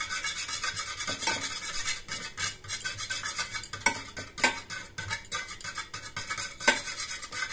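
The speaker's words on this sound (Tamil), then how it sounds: "ஒரு 5 நிமிஷத்துக்காவது நல்லா அடிக்கணுங்க." Eggs for a flower omelette are whisked hard in a bowl, a fast, continuous clattering and scraping of utensil against the dish, close and busy, with no one talking.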